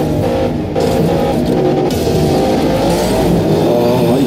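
A racing car engine in the Asphalt video game revs hard and climbs through gears, loud and close with a steady roar and rising pitch, no voices over it.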